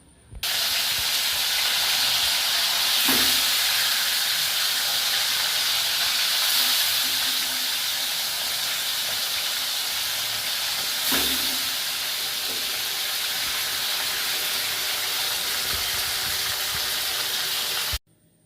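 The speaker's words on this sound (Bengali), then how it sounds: "এবার আমি মাছগুলোকে ভেজে নেব।" Fish frying in hot mustard oil in a wok, a steady loud hiss and sizzle that runs unbroken for about eighteen seconds, with a few brief bursts of spattering, then stops abruptly.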